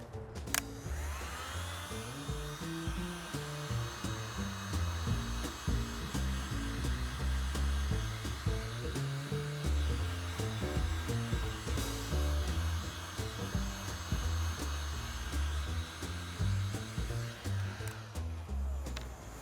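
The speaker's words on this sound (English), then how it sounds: "And so the heat gun is a little bit of a shortcut." A heat gun blowing hot air to melt wax off a worn Allen Edmonds leather shoe, a steady loud whooshing roar that runs close and continuous throughout, with faint handling noise underneath.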